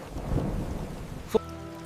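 Rain falls steadily through a monsoon-season thunderstorm over a farm, with a low rumble of thunder rolling beneath the downpour and a sharp crack near the end.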